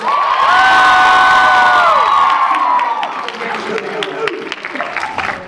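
A crowd at an anime convention voice-actor panel in Milwaukee cheers, whoops and applauds loudly, with high excited shouts over a dense wash of clapping that slowly thins while voices chatter.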